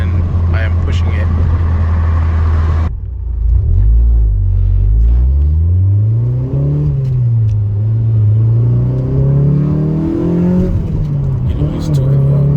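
A 2006 Honda fitted with an Injen X-Pedal Pro throttle controller accelerates from inside the cabin, a loud engine drone rising and falling through the gears with a shift break early on, while a person talks over it.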